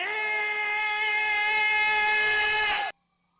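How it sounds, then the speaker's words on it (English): A steady, loud siren-like wail holds several sustained harmonic tones for about three seconds, then cuts off abruptly into silence. No talk is heard over it. "Here's some sirens, so apologize, guys."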